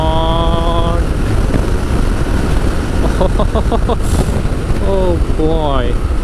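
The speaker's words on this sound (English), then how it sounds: "This is like a true motorcycling machine. Whoa, in 5th gear it gets, oh my god." Royal Enfield Interceptor 650 motorcycle engine revving hard in fifth gear, a loud steady roar under heavy wind buffeting with a rising whine near the end, while the rider exclaims over it.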